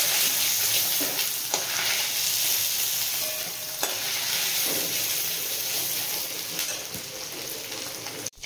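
Potatoes fry in oil left over from browning paneer, giving a loud, steady sizzle throughout with a few faint stirring clicks.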